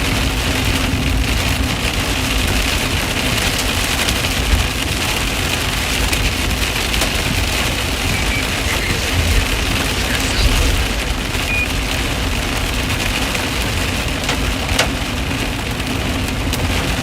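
Heavy rain pounds a storm chaser's car during a severe storm in Illinois or Indiana, a dense, steady hiss of drops on the roof with occasional louder thumps, filling the space with no talk.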